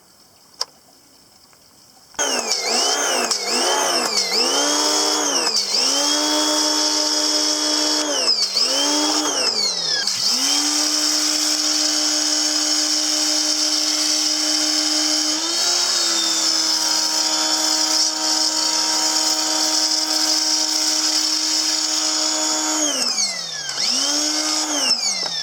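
A Portland gas pressure washer engine starts with a sharp pull and then runs loud and steady close by, its pitch rising and dipping a few times before settling into a constant idle drone.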